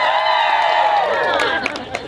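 Dinner guests at a live performance cheer and shout together to pick a happy song, a loud crowd roar that thins toward the end with a few claps and scattered voices.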